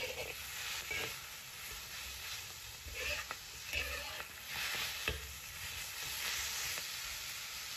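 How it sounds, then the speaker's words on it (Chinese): Spinach stir-fried over high heat in a wok, a steady loud sizzle with repeated scraping and tossing strokes of the spatula every second or so, close up and with no talking. "一定要用大火来爆炒。 在爆炒的时候呢，不断的翻滚菠菜。"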